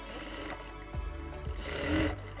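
An overlock sewing machine stitches a pocket hem with a steady low mechanical whir, close and moderately loud throughout, with a few brief thumps and a slight rise in speed near the end.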